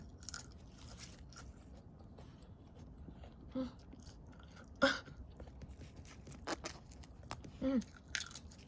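Artichoke petals are peeled and chewed, with soft wet crunches and bites scattered every second or two, up close and fairly quiet, mixed with faint rustling.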